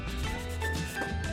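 Sandpaper rubbing over a wood-filament 3D pen model, a steady close scratchy rasp that runs without pause and swells and eases slightly with the strokes.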